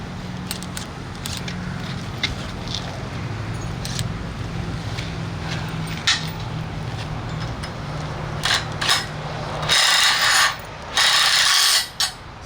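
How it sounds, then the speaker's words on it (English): A 1/2 inch drive ratchet and wrench tightening a nylock lock nut and washer while installing new cable in a mast, heard as rapid close ratchet clicking and metallic rubbing, ending in a few loud harsh bursts of scraping. "we're ready to tighten with a 1/2 inch drive and a 1/2 inch wrench"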